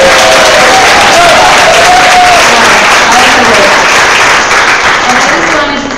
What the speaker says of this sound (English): I think we need an extra strong round of applause for Margaret and all of her.